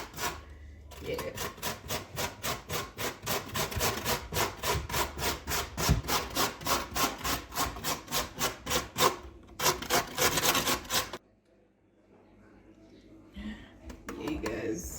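Potatoes are rubbed against a grater for potato patties in a rhythmic run of about thirty quick rasping strokes, close and fairly loud, which stop abruptly before a quiet stretch with faint handling sounds.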